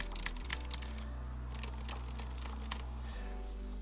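Soft, muffled key presses on a Ducky One 2 SF mechanical keyboard with Silent Red switches, tapping in quick irregular bursts, quiet and close, over a steady low electrical hum.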